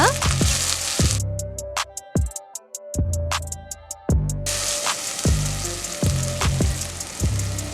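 Loud, steady sizzling of masala and onions frying in a hot pan for mutton biryani, crackling and popping throughout with sharp clinks of a utensil against the pan.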